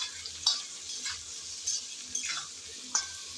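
Ginger-garlic paste fries in a pan, with a soft continuous sizzle. A spatula scrapes and stirs it in short strokes at irregular intervals, several distinct scrapes standing out against the quiet frying.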